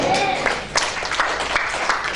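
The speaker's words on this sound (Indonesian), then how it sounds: "Tepuk tangan." A church congregation applauds during a sermon, a steady wash of many hands clapping at close range that fills the clip with a few louder swells.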